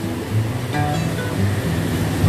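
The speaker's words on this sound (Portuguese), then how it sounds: "Acabou de chover bastante, ainda está chovendo" Steady heavy rain falls in a dense, constant hiss, with no voices heard.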